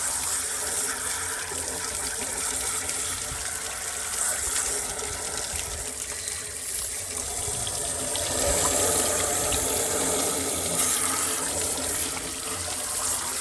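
Water gushes steadily from a hose being flushed through an old outboard-style engine with an original plastic impeller, a continuous splashing rush that swells louder in the second half.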